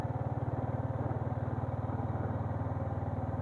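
A motorcycle engine runs at a steady idle, its fast, even thumping pulse loud and close and continuing without a break for several seconds.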